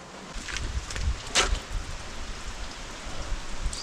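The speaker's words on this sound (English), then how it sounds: "Stupid rain as well." Steady rain falls outdoors as a continuous hiss with scattered louder drops and gusts, fairly close and with no talk.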